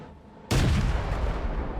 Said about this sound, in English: Oh, it's just another cannon.